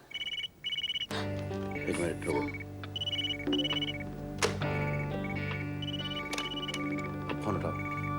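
Steady rain patters across a bog with a soft constant hiss in Minecraft Legends, while low sustained musical tones hum underneath; no voices.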